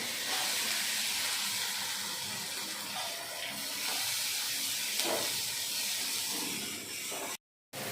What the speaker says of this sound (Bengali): এখন এর মধ্যে ডালিয়াটা দিয়ে ভালো করে ভেজে নেব।